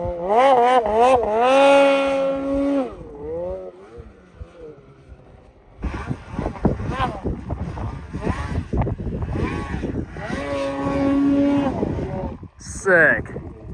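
Revving Polaris off-road vehicle engine on a steep hillclimb test run, loud and close with rising, straining engine pitch in bursts and gaps, wind noise on the microphone and people shouting and talking between.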